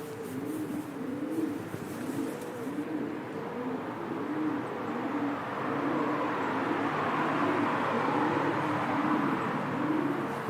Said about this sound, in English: As you can hear, there are plenty of pigeons about.